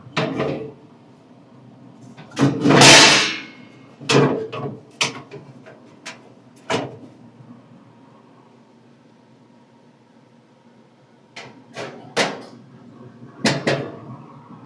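Metal parts of a Z Grills 10502B pellet grill, the heat deflector and grease tray, being fitted into place: scattered clanks and scrapes with quiet gaps between them.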